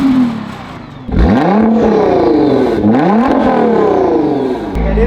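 A Nissan GT-R with a custom Valvetronic catback exhaust revs hard up close, loud rising and falling engine sweeps in repeated bursts with a growling idle between.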